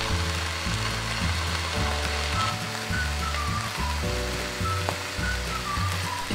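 A beef steak sears in a hot frying pan, giving a loud, continuous sizzle and crackle that stays steady and close throughout, with no talking.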